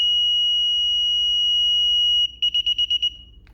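A DSC home alarm system's keypad sounds its entry countdown: a loud, steady high-pitched tone holds for about two seconds, then breaks into a quick run of about six sharp, evenly spaced beeps.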